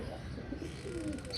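Released pigeons coo and chirp in soft, low calls close by over a quiet outdoor background, with faint voices in the distance.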